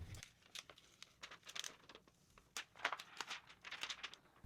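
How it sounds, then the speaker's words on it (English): A piece of strong-grip transfer tape is handled and cut for a Cricut craft, giving soft crinkling and rustling snips in irregular bursts, close but quiet. "Cut a piece of transfer tape"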